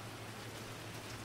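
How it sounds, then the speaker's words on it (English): Rain falls in the video game GTA V Online as a steady, dense wash of noise with a low hum beneath it, even and continuous throughout the short stretch without voices. "Oh, the rain is just so good looking in this game."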